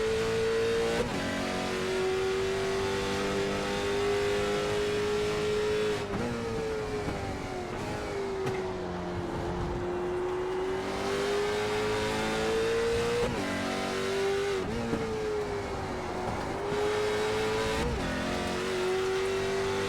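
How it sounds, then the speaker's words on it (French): Race car engine in a sim racing video game on the Okayama circuit during a flying lap, with a steady loud tone that rises and dips as it shifts through gears across the lap, with no talk. "Et là, c'est le premier tour lancé pour Marc-Antoine Côté."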